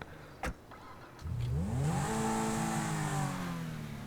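A Pegassi Zentorno supercar in a video game cranks and fires up, its engine catching with a rising rev that settles into a loud, steady idle; a brief click comes just before.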